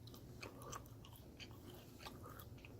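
Faint, close crunching bites and chewing of a mocha caffeinated energy bar from a 2017 US First Strike Ration MRE, irregular brittle snaps repeating over a quiet background.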